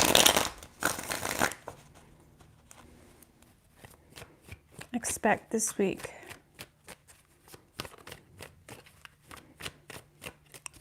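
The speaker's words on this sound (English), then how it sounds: "3 shuffles." Tarot cards are shuffled with a brisk riffle up front, then a rapid series of soft card flicks and taps; someone speaks at the start.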